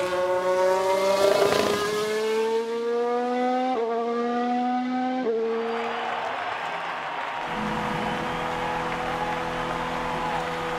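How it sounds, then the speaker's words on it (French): A Formula 1 car crosses the finish line in the F1 Manager 22 racing game, its engine note rising through gears with a loud whine over a steady background roar of crowd noise. "Max Verstappen franchit la ligne et remporte la victoire"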